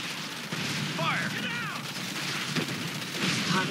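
Gunfire from a battle in the real-time strategy game Command & Conquer 3: Tiberium Wars, bursts of shots and booms running through the clip amid dense battle noise and game voice chatter.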